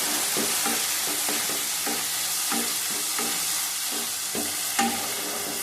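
A spice paste made with ground cashew and raisin is sautéed and stirred in a pan. A steady sizzle runs throughout, with rhythmic scraping strokes and one sharper clink near the end.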